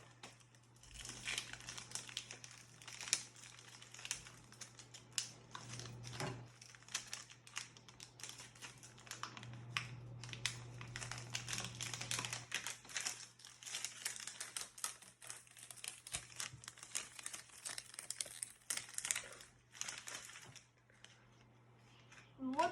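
Paper crinkles and crumples during unpacking of animal toys, with dense, close crackling that comes in irregular bursts throughout, along with faint handling noises and a steady low hum.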